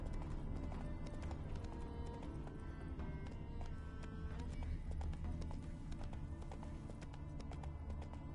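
Roach, a horse in the video game The Witcher 3, clip-clops steadily along a dirt road with a faint whinny, close and continuous over game ambience and music.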